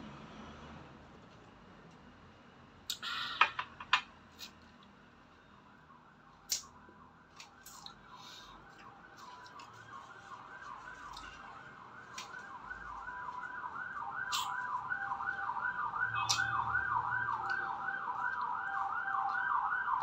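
An ambulance siren wails in the distance and grows steadily louder as it approaches, with a few clanks and bumps nearby.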